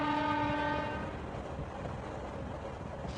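Cartoon train in a Doraemon episode, opening with a sustained tonal horn blast that fades after about a second, leaving a softer continuous running rumble of the moving train.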